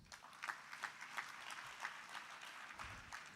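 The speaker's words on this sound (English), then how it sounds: "Give him a round of applause." An audience at a fintech festival in Nairobi, Kenya gives a short round of applause, soft and distant, with scattered individual claps standing out in an uneven patter.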